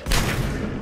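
A grenade blast in the video game Mass Effect 3: one loud, close boom with a broad rumbling burst that rings out briefly.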